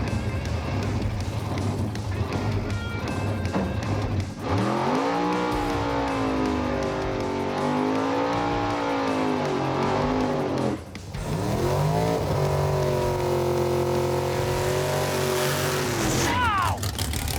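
Drag race car doing a burnout at a Blasphemi versus F-Rod race, its engine revving hard with screeching tire squeal, easing briefly then surging again in a loud, sustained howl, with a faint voice underneath.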